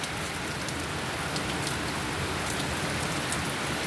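Steady rain falls on a rainy day, a dense, even hiss of drops on surfaces that holds constant throughout with no breaks or voices.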